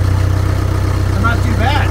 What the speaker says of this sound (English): Rev it up a few times.